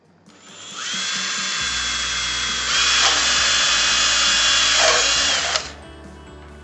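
A power drill bores a hole for a boat cover support pole. It gives one sustained high whine for about five seconds, close and loud, its pitch shifting slightly as the bit bites in before it spins down, with no speech.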